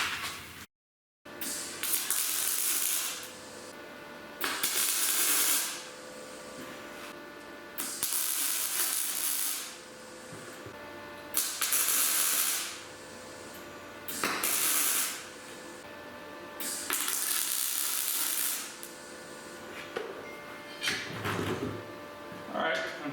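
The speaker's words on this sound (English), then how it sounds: "I'm going to get the welder out." An ATV rim gets a rock ring tack welded onto it. Bursts of loud crackling, hissing welding noise start and stop in a repeating rhythm, each lasting a couple of seconds with short quiet gaps between.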